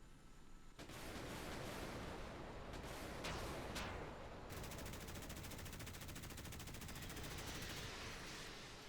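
Naval cannon fire in a warship video game: rapid, heavy bursts fill the clip, loud and continuous, with rattling repeated shots and booming blasts layered over a dense battle din.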